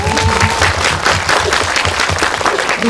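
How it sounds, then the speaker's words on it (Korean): A cinema audience applauds steadily at a Q&A at Indiespace, a dense wash of many hands clapping throughout, loud and near. "박수 한번 부탁드립니다."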